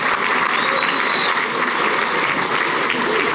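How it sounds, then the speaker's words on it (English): An audience at a luncheon event held at Maggiano's gives a round of applause for the restaurant staff: loud, dense, sustained clapping from a large crowd, steady throughout. "Can we just give a hats off and a round of applause to the staff at Maggiano's?"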